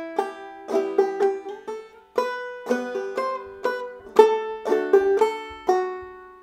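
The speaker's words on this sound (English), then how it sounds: "straight up, no drop thumbs, no syncopation" Clawhammer banjo picks out Greensleeves in a plain, straight rhythm with no drop thumbs or syncopation. Bright plucked notes and strums fall in a steady, unhurried pattern, close and clear with no voice.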